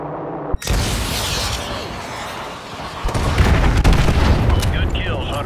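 Heavy gunfire from the video game Modern Warfare 2, loud and continuous, with rapid overlapping shots and deep booms that build in intensity and include a few sharp, punchy blasts.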